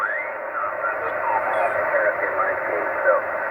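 Amateur radio receiver swept across a band picks up an American station, giving a continuous band of hiss and a warbling distant voice with whistling tuning sweeps, faint and steady throughout.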